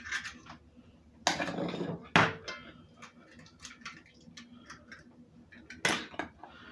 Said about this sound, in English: We're going to crack our eggs in here.